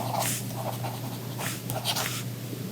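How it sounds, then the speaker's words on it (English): A pen scratches across the screen of a reMarkable 2 e-paper tablet in quiet, soft strokes, a series of short papery scrapes in an irregular rhythm. "For me, it sounds like pencil on premium paper."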